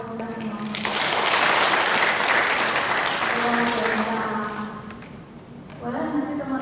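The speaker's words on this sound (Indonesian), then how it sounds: "Tepuk tangan untuk kita semua." Applause from an audience at an Indonesian company office gathering, swelling into a dense burst and then tapering off, with a voice speaking before and after.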